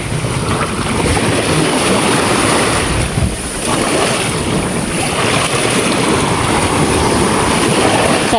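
Steady, loud rushing of wind and surf at the shore, a constant broadband roar with no voices.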